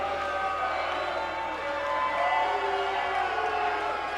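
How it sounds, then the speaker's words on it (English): A jam-packed crowd at a live wrestling event in Miami, Florida, sending up a steady, dense roar of cheering and whoops that swells slightly midway and holds loud throughout, with no single voice standing out. "Jam-packed crowd here in Miami, Florida."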